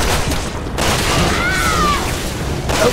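Gunshots in a Resident Evil 6 co-op fight, a dense loud wash of firing and booming impacts throughout with a short whining tone partway through.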